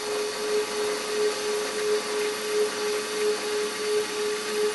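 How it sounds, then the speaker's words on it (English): A milling machine climb mills with a chamfering bit, producing a steady close mechanical whir with a thin constant whine and a gentle, regular pulsing as the cut runs on. "climb milling always gives me a better finish when I'm using the chamfering bit"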